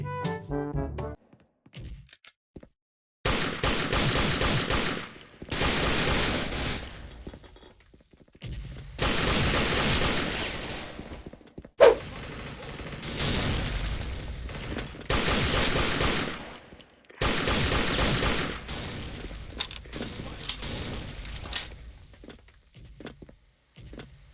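Rapid automatic gunfire from the shooter game Special Force comes in several long, loud bursts separated by short pauses, with one sharp impact in the middle.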